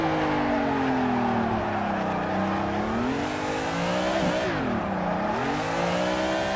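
A car drifts sideways in the racing game Assetto Corsa, its engine droning loud and steady while the pitch sweeps up and down with throttle and tire squeal, held continuously throughout with no talk.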